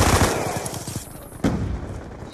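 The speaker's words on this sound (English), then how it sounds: "Oh, that is a cracking shotgun" Shotgun fire in Black Ops 2, a rapid burst of loud close blasts followed by a sharp single crack after a brief lull.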